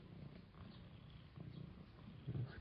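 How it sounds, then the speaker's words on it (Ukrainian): Thin ginger cat purring softly up close outdoors, a faint continuous rumble with a slightly louder burst near the end, no talk over it. "Котик-муркотик."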